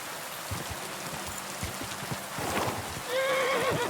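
A horse whinnies near the end in Kingdom Come: Deliverance II over steady rain and soft hoof clops, with a high, wavering cry rising above the background.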